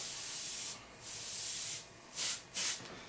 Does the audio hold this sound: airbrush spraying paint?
yes